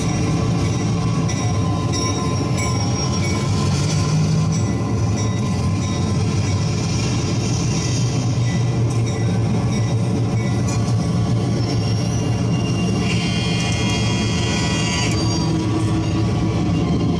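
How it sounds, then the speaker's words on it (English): Simulated passing model locomotive from a DCC throttle's sound effect: a steady, loud rumbling train noise with rail clatter running throughout, and a brief higher squeal or whistle-like tone near the end. "the throttle goes and creates the sound of the passing locomotive once it detects it passing us"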